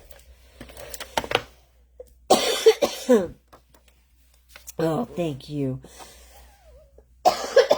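A few harsh, close coughs break up quiet stretches, followed by a person speaking briefly.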